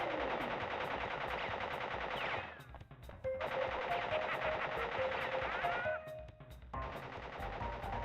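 Rapid automatic gunfire from the video game Marvel Rivals rattles in two long sustained bursts with a short gap between them, loud and continuous under layered game effects, with no voices.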